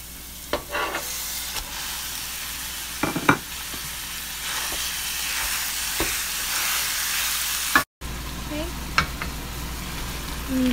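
Ground lamb sizzles and fries in a pan with softened onion while a spoon stirs it, giving steady close frying hiss with a few scraping knocks and a brief cutout near the end.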